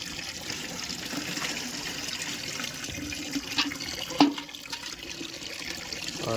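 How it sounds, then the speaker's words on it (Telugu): Hot water runs steadily from a tap into a filling bathtub, with a constant rushing splash and a few brief knocks. "Hot water కలుపుదాం."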